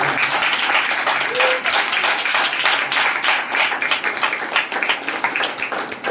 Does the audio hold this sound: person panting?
no